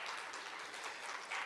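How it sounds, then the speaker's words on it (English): Brief, quiet round of applause from a conference audience in a university auditorium, a steady patter of clapping with no voices over it. "Let's give her a round of applause."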